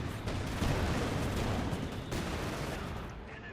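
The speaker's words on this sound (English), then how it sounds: "again a lot of fire there. Machine guns, mortars, tank guns." Dense Company of Heroes 2 battlefield din of machine guns, mortars and tank guns, a continuous loud roar of overlapping gunfire and explosions with a couple of stronger bursts.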